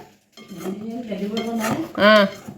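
A spoon stirring tamarind and amla pickle in a metal pot, a few scraping clinks against the pot over a short stretch, close and moderate, with a brief ringing metallic scrape near the end.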